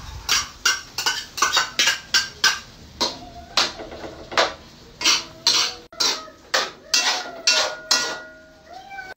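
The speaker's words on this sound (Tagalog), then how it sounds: "Ilalagay natin yung liver spread." Liver spread is added to igado in a pan while a utensil repeatedly clanks and scrapes against the metal in a quick, uneven rhythm of close, sharp hits.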